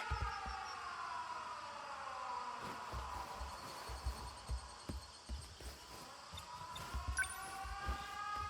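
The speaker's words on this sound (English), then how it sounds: "The sirens." Wailing air raid sirens in the video game 13 Sentinels: Aegis Rim, rising and falling in pitch, several overlapping, with scattered thumps and knocks underneath.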